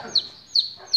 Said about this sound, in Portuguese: Esse pinto é... Ele come, pia, roda.